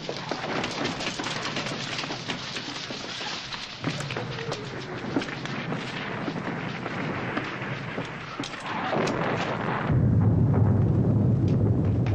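Dense rumbling booms and crackling blasts of exploding artillery shells roll on continuously, like distant shelling mixed with a rain-like hiss, deepening into a heavier roar toward the end.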